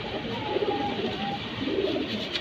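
Pigeons coo steadily and fairly close, a soft repeated throaty murmur forming a continuous bed of calls, with a few brighter call notes on top.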